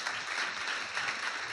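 A church congregation claps together during a worship service, a dense, continuous wash of applause heard from within the room, with no voices standing out.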